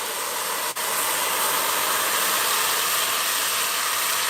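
A loud, steady hiss of sizzling in a pot while cooking shell pasta soup fills the whole clip, broad and unbroken, with one brief dip near the start.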